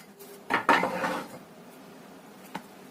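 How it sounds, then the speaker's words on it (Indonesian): A spoon clinks and scrapes in a bowl while ground spice paste is stirred into a grated vegetable mixture for a tempe, tofu and potato dish, with a couple of close metallic taps and then quiet. "Kita aduk sampai bumbunya tercampur rata."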